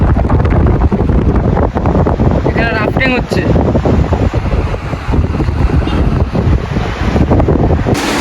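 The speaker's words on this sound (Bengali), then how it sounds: "হাওয়াটা প্রচণ্ড চলছে, মানে সাইকেল নিয়ে আগানো যাচ্ছে না" Strong mountain wind buffets the microphone outdoors near Manali, a loud continuous roar throughout, with a person speaking briefly over it.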